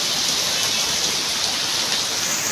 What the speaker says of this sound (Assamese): এয়া চাওক মস্ত বৰষুণ ইয়াত।